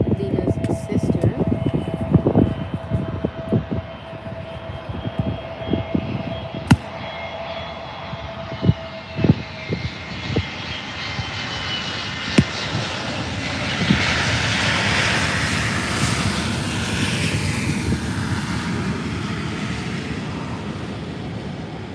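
An airliner passes at Faro airport with a jet roar that swells and peaks in the second half. Scattered clicks and handling knocks sit over a thin tone early on, and a voice is faintly present.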